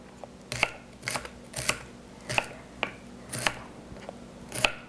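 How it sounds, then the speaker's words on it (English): A knife cuts small organic asparagus into little pieces for shrimp fried rice, giving about eight crisp, close chops in a steady, unhurried rhythm with quiet pauses between them and no talking. "Now I cut some asparagus. This is very small, so I use 6-7 pieces. Cut into small pieces."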